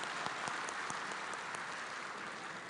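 Steady applause from an audience at a formal government coordination meeting, dense continuous clapping filling the whole stretch at an even level, heard from a distance.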